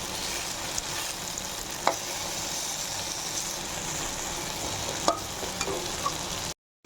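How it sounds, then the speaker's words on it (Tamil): Slices of bottle gourd fry in oil in a pan, making a steady soft sizzle and hiss with a few sharp clicks of a utensil, no voices, ending in sudden silence. "எண்ணெய் ஊற்றி வச்ச சுரைக்காலாம் எப்படி நல்லா வெந்துட்டு வருது."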